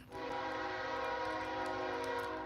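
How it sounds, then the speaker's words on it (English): A train passes loudly and close by, its horn blaring in a sustained tonal chord over a rumbling rail roar that holds steady throughout. "loud ass train"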